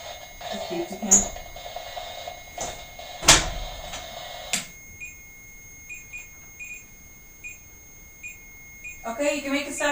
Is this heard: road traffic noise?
no